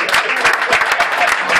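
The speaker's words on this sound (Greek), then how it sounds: "ένα χειροκρότημα στον κύριο Πανούλη" Warm applause in a small venue for the shop's owner, Mr. Panoulis, a loud, close, continuous patter of clapping hands with slight surges throughout.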